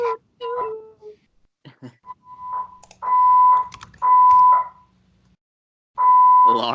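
An electronic alarm sounds in repeated steady beeps, each lasting about a second with short gaps, loud and close after some scattered clicks.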